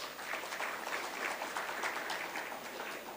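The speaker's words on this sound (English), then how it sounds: "Please give a big round of applause." Audience applause at a corporate governance awards ceremony, a steady, even round of clapping from a seated crowd, heard fairly faint and distant throughout.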